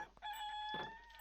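A long-tailed, red-bodied rooster in modded Minecraft crows once, a faint, sustained tonal call lasting about a second, with a brief cluck-like burst near the start and middle.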